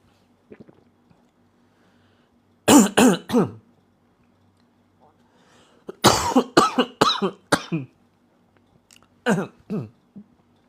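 A person coughs and clears their throat in harsh bursts after choking on water, first a pair of hacks, then a longer run of coughs, then a few more after a pause.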